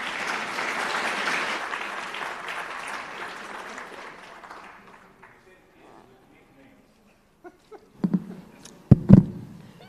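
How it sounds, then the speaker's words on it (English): Conference audience applauding loudly at first, the clapping thinning out and fading away, followed by a few scattered knocks and thumps near the end. "a round of applause, please."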